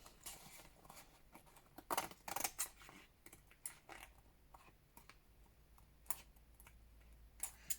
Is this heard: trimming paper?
yes